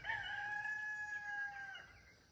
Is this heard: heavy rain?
no